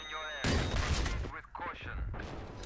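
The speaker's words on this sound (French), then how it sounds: "Explosion, magnifique" A grenade goes off in the console shooter Battlefield 3 during a conquest match, a loud sharp blast with gunfire-like crackle and rumble, followed by further bursts of noisy in-game combat.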